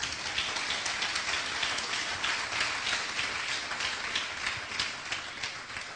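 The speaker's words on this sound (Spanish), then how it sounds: "Den un aplauso al Señor." Church congregation applauding during a Spanish-language sermon, a dense, steady wash of many hands clapping that fills the whole stretch at an even level, with no voices standing out.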